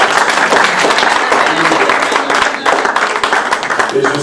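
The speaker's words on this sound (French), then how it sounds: "nous voulons le célébrer par nos acclamations" At a church consecration service, a congregation claps and cheers in celebration, loud and close, with individual sharp claps standing out from the crowd noise and voices calling out amid the applause.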